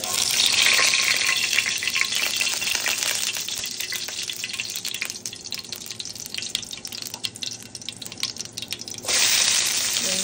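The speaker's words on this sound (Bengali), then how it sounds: "তেলটা গরম হয়ে গেছে, একটু পাঁচফোড়ন দিব।" Panch phoron spice seeds hit hot oil with a loud, steady crackling sizzle, bright and close, easing slightly midway before flaring up again near the end.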